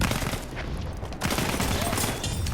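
Heavy Battlefield 1 combat gunfire, with dense rapid shots and machine-gun bursts crackling loudly and almost continuously over a rumbling battlefield, with a brief lull midway.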